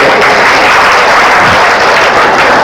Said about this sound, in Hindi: इनके लिए जोरदार ताली है।